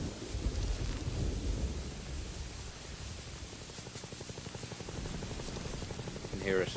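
A helicopter arrives in the video game Metal Gear Solid V, its rotor chop faint and building softly beneath breathy wind-like noise, growing more rhythmic toward the end.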